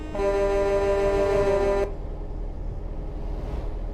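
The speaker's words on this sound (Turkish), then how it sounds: "Aa korna çalıştı biraz önce." A truck horn in Euro Truck Simulator 2 blares as one loud, sustained tonal blast lasting nearly two seconds, then cuts off abruptly to leave low engine rumble.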